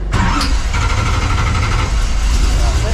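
A NASCAR race car's engine cranks and fires up, then holds a loud, steady, rumbling idle close by, filling the whole clip without pause.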